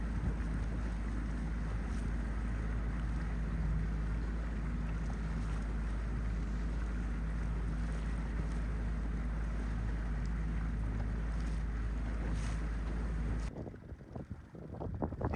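Outboard-powered dinghy racing across open water to catch up with a sailboat, a steady loud engine drone with wind and water noise throughout, cutting off abruptly near the end.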